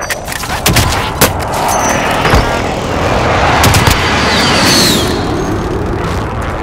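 Airstrike in Call of Duty Modern Warfare: loud, close bursts of gunfire and sharp cracks with booming impacts, followed by a sustained roar as the strike sweeps through.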